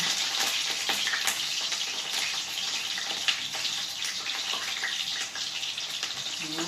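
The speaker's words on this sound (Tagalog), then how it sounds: "Prito po natin siya na talsik na naman po ang mantika ni Tita Amy." Dense crackling sizzle of eggplant frying in hot, splattering oil, with sharp pops and spatters scattered throughout, steady and fairly close, no voices.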